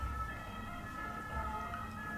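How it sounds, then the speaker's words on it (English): A distant siren in Paris wails steadily with a sustained tonal pitch over low traffic rumble, heard alone with no talking. "Siren."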